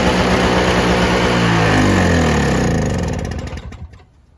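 The engine of a Toro CCR2000 snowblower runs at full throttle with the choke on, a loud close two-stroke drone that holds steady and then fades and cuts out near the end.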